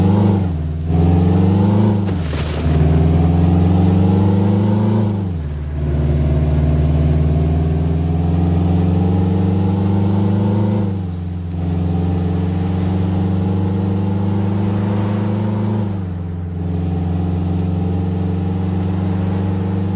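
A Peterbilt 351 truck engine in Euro Truck Simulator 2 idles with a deep, steady rumble, occasionally revving up and settling back down, loud and close.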